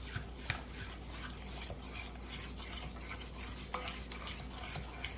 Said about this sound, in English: I have a teaspoon of vanilla. And then also 2 eggs, and I'm just simply stirring,